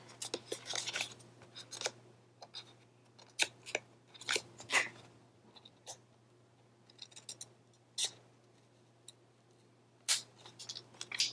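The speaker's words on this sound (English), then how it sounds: "I didn't want to cut through the hinge here." Scissors cutting paper for a card, carefully snipping around a hinge; a series of sharp, separate snips and crunches at irregular intervals, close and fairly quiet, with a faint steady hum underneath and no talking.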